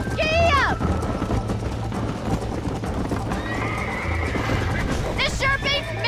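A horse in Red Dead Redemption whinnies sharply at the start and again near the end, with steady galloping hoofbeats running underneath throughout, close and loud.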